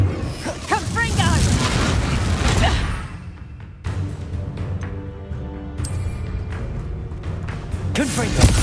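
Confringo fire spell explosions in Hogwarts Legacy during a battle at the High Keep: heavy booms and rumbling blasts fill the scene, with a brief lull partway, and character voices shout over the din.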